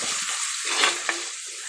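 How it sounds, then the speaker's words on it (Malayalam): Tomatoes sautéing in a pan give off a steady, close sizzling hiss with a couple of brief pops, and no one speaks. "നമുക്ക് ഇതിലേക്ക് ഇഞ്ചി വെളുത്തുള്ളി ഇതൊക്കെ ഇട്ടും ഒന്ന് വഴറ്റാം"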